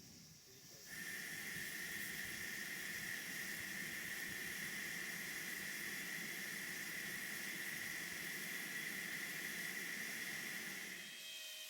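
Steady hiss of a steam engine under steam test in a workshop, a continuous loud whoosh with a bright high whistle-like tone running unbroken for about ten seconds before tailing off.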